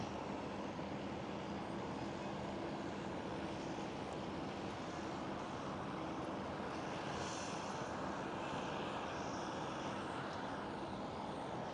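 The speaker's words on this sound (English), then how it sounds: "I see Air China Cargo A330 passenger to freighter configuration taxiing as well." An Air China Cargo A330 passenger-to-freighter conversion taxis at Amsterdam Schiphol, a faint, steady distant jet engine roar with a broad hiss holding throughout.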